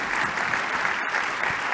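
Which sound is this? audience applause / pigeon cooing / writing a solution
audience applause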